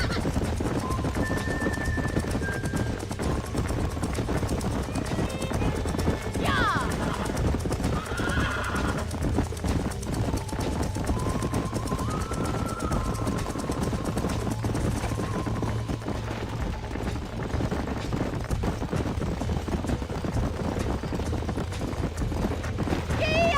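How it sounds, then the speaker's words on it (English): Horses in the video game Red Dead Redemption trot with rhythmic clip-clopping hooves and let out several whinnies and neighs, while characters talk over the hoofbeats for much of the time. "These are fine horses."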